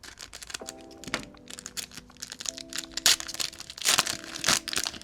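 Pokémon TCG 151 booster packs being cut open and handled, giving close crinkly foil rustling and sharp crisp snips in irregular bursts, with faint tonal sounds in the background.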